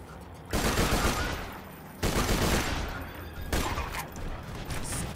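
Enemy gunfire in Borderlands 2 comes in three loud sustained bursts, each starting abruptly and rattling on for over a second before the next volley cuts in.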